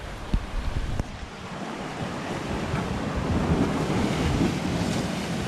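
Sea water surging and rushing into a cave on a Trinidad beach near Fort Abercromby, a steady broad wash of surf with wind buffeting the microphone, rising slightly in the second half.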